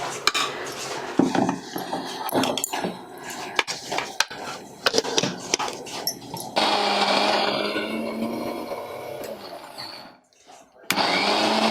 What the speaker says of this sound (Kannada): ಈಗ ನಾನು ಕಡಲೆಬೇಳೆ ಹಾಕೊಂಡು ಜೊತೆಲಿ ರುಬ್ತಾ ಇದ್ದೀನಿ.